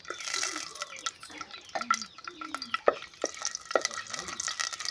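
Green chillies are stirred in a pan for mushroom curry, with soft scraping strokes and faint sizzling. The clatter comes close but quiet, in uneven bursts.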